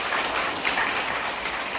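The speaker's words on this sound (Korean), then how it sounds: "신부님께도 감사의 박수" Brief, dense applause from a church congregation after an evening Mass in Korea: continuous clapping from many hands at moderate volume, with no speech over it.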